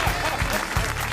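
Studio audience applause on a French radio-TV comedy panel show greeting a guest, a dense steady wash of clapping with a few heavier bursts, loud and close throughout.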